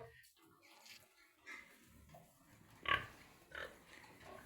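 Quiet grunts and snorts from pigs nearby, with one louder squeal in the middle, over a low background murmur.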